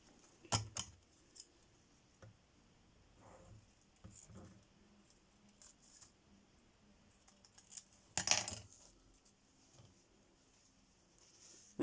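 Scissors cutting through a folded piece of doily, sparse, quiet snips and clicks spread across the clip, with two sharper, louder cuts standing out against a hushed background.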